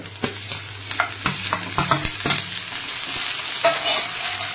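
Tomatoes and cashews go into a pan of fried onion, garlic and chillies, with a run of close spoon knocks and scrapes against the pan over a low, steady sizzle that keeps going after the stirring eases off.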